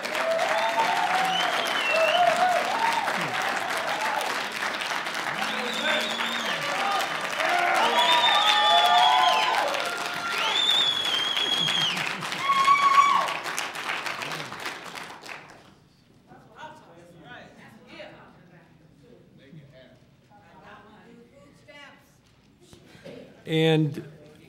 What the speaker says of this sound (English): And appreciate the applause for Mr. Mendoza